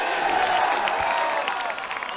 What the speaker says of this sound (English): We can hear the crowd.